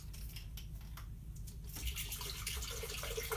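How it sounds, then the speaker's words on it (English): Coconut water poured into a smoothie mix, a steady liquid splash that grows noticeably louder and fuller partway through, close and alone. "we're going to throw in this coconut water first. Throw this whole thing in."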